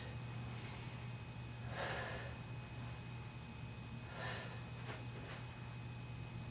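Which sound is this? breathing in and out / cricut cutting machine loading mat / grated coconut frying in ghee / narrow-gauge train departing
breathing in and out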